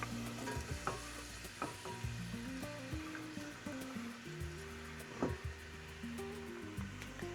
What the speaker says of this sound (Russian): Лук у нас будет жариться минут 7-8 до прозрачного цвета.